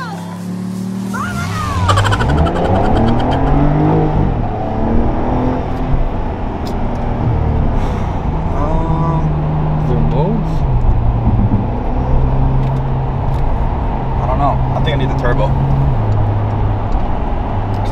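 A 2021 Porsche 911 Turbo S (992) engine drones steadily from inside the cabin while driving, rising after a brief start and holding a loud, even tone with shifting pitch.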